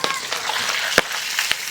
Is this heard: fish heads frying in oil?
yes